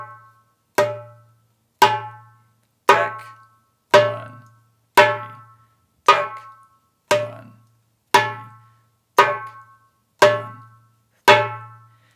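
A dumbek played with Turkish split hand technique taps out slow triplets of a tek followed by fingers 1 and 3, repeating about a dozen times in an even, spaced rhythm, crisp and close with a low ring under each group.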